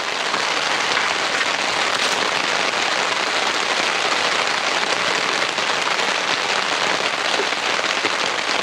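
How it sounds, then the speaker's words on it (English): Steady rain drums on a tent roof overhead, a dense, continuous patter with no letup and no talking. "Surely you all can probably hear the rain coming down over our head on our tent here."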